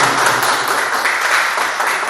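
Audience applause at an international conference on fighting the mafia, a dense, even wash of clapping from a large crowd held close for about two seconds.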